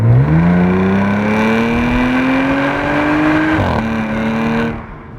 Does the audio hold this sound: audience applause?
no